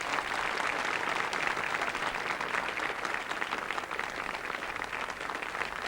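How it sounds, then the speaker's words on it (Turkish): A TV studio audience applauds a female singer in a steady, dense wash of clapping that holds at an even level throughout. "Hep beraber alkışlıyoruz."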